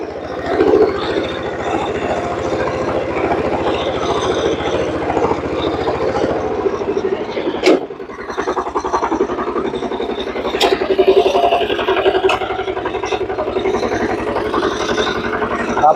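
A power tiller engine runs steadily at close range with its rotor in second gear and wheels in first, a continuous mechanical drone holding through the whole stretch, with a brief dip and a sharp knock near the middle.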